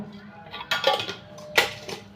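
A spoon mixing shrikhand with chopped cashews and almonds in a bowl gives two close, bright scraping clinks against the dish over a quiet background.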